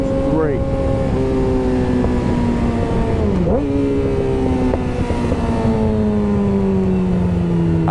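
A Yamaha R6 sport motorcycle engine breathing through an M4 GP exhaust, a loud, close, continuous drone whose pitch slides and dips with throttle changes, with some voice mixed under the engine.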